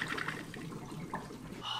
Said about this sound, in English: Water's flowing, no leaks.